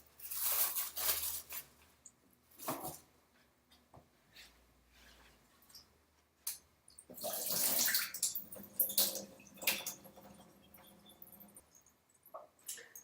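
Soaked tapioca pearls are drained in a kitchen, with water splashing and gurgling in uneven bursts that swell and fade, close by and fairly quiet.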